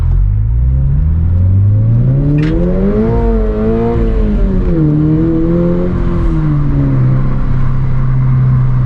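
A 2022 Subaru BRZ engine with an HKS Spec-L exhaust revs loudly up and down through a throaty exhaust, pitch climbing then dropping as it downshifts, close and continuous with no voices.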